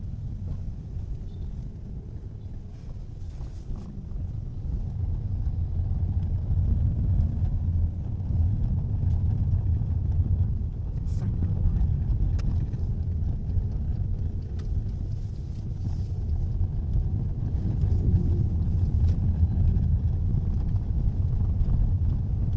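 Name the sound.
road traffic heard from inside a car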